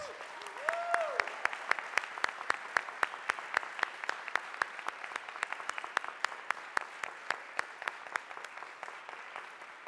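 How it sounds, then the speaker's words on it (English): An audience at a city council regular meeting claps for new state champions, a thin, evenly paced round of individual claps, fairly faint, opening with a brief voice. "So one more big round of applause for the new state champions."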